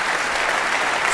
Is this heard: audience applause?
yes